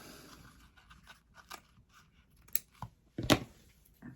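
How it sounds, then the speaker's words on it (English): Scissors snip through glove material in a few close, crisp cuts, the last two louder and crunchier, with faint rustling between them. "so I'm going to trim this off. Well, get my other scissors."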